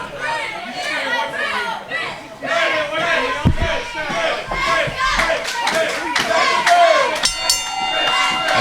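Wrestling crowd cheering for Kris Krow at an independent show, a lively roar of voices and scattered clapping beneath a commentator talking over it.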